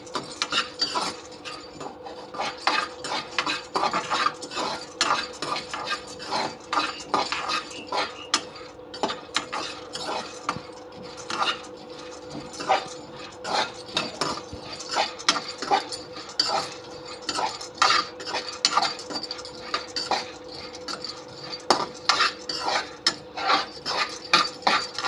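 Idli podi ingredients being dry-roasted over low heat in a hot pan, with a spoon scraping and stirring continuously in a steady, busy rhythm of close, moderate clatter and rasping throughout.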